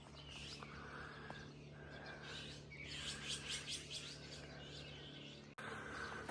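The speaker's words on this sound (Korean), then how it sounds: "아, 새들이 엄청 아침에 지저귀네요." Birds chirping in the morning in Aguen-ri village, Uiryeong County, with many overlapping tweets and calls over a steady rural background hum, nearby and moderately loud, with a brief dropout near the end.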